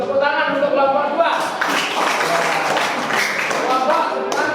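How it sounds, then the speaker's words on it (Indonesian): Classroom applause for a student group, a dense spread of clapping from many pupils that swells after the first second and carries on steadily, with a voice talking over it at the start. "Tepuk tangan untuk kelompok 2."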